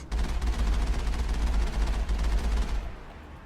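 Sustained automatic gunfire from a Mass Effect firefight rattles loud and dense for about three seconds, then cuts off abruptly.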